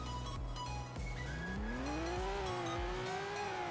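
A Lamborghini Sian in the Roblox game Car Crushers 2 launching from 0 to 60, engine note climbing steadily through a gear shift with a touch of tire squeal, continuous and loud with no talk.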